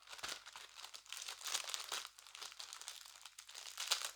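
Foam packaging wrapped around an ordered item is peeled open with soft, continuous crinkling and rustling, close and quiet, with no talking.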